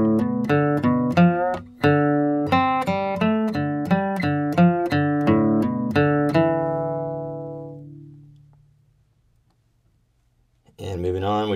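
Guitar in drop D tuning playing an outlaw country riff line, rhythmic picked notes and low chords for several seconds before ringing out and decaying into silence, with a voice starting up at the very end.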